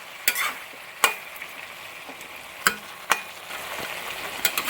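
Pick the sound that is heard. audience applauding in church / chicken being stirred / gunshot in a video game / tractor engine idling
chicken being stirred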